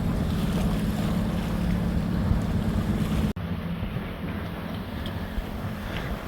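A sailboat moving through waves in the wind, with steady rushing water and wind buffeting the microphone, one sudden brief dropout partway through, then the same continuous wash resuming.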